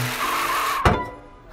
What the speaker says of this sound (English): I can hear the bus,